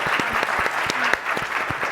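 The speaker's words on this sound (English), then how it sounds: "So let's give her a round of applause." An audience at an industry partnerships event applauds, a short burst of steady indoor clapping from a modest crowd.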